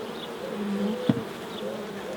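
Honey bees buzz in a steady droning swarm around an open hive on a calm, windless day, the hum continuous and close with one brief louder bump midway.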